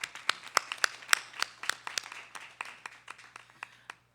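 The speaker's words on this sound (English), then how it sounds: "Let's give him a round of applause." Applause for a girls basketball coach, with scattered individual claps from a small crowd that thin out and fade over a few seconds, fairly faint and without talk.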